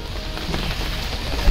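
Heavy monsoon rain pours on a trek near a waterfall in Mumbai, a dense, steady hiss of drops striking surfaces, loud and continuous with no voices.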